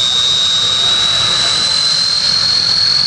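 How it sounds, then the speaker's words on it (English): A 950 kg mini rod drag racer at Great Eccleston in 2011 roars loudly and continuously, its high exhausts giving a harsh, slowly rising whine over a dense, noisy rumble. "Hot fuel into those high exhausts."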